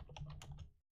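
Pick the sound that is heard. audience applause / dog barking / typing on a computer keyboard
typing on a computer keyboard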